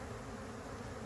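A honey bee swarm fills the air outdoors with a dense, continuous buzzing drone, steady and fairly faint, with no voices.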